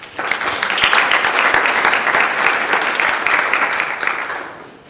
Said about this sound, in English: So if you could give them a quick round of applause.